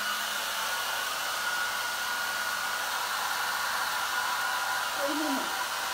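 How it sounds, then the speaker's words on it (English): A hair dryer blows continuously nearby, a steady even rushing whoosh held at constant level throughout, with a faint voice briefly audible near the end. "now I'm going to have to just hairdryer this off."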